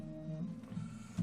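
A home embroidery machine stitching a robe section of a stained glass nativity ornament design on mylar, giving a steady close mechanical hum with a faint tonal whine and small rhythmic bumps, heard alone.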